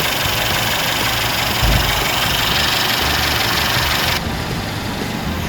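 A 2017 Mercedes-Benz E300 Avantgarde in black, about 6,300 km on it, idles with the engine bay open, a loud steady close hum with a brief low thump partway through and a slight drop in level near the end; no talking.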